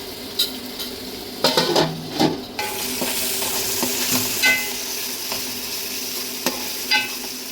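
Tomatoes with ginger, garlic and cumin cooking in a pan for a fish curry, giving a steady soft sizzle with several sharp clinks and scrapes of a spoon stirring against the pan, close by and with no voices.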